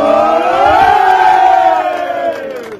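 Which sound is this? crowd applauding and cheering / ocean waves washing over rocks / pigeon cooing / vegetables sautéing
crowd applauding and cheering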